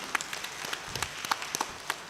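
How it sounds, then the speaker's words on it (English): Audience applause for a professor at an interdisciplinary Islamic studies colloquium, thin and fairly faint, with scattered separate claps over a soft background. "So let's give a big applause to Prof."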